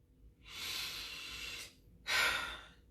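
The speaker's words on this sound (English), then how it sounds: "I'm breathing because I want to make sure I say this right" A person takes heavy, audible breaths, a long airy inhale followed by a sharper, louder one, close to the microphone with no words spoken.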